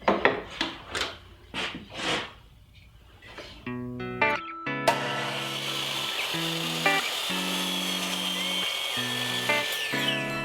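A wood block being cut at a 45-degree angle with a power tool: a few short rasping strokes, then a close whining cut that rises and falls in pitch as it bites.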